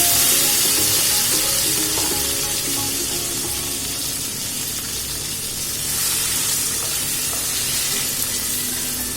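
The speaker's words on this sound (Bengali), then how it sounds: "আমড়াগুলো এবার একটু ভাজা হবে।" Hog plums fry in a pan with crushed garlic and a little ginger for a pickle, giving a steady, close, unbroken sizzle with faint stirring and no talking.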